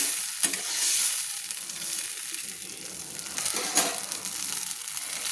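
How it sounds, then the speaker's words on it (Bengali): Tamarind water is poured into radish frying in a pan, giving a steady soft sizzle with stirring scrapes and a couple of brief louder splashes, fairly quiet throughout. "তেঁতুল জলটা আমি দিয়ে দিলাম"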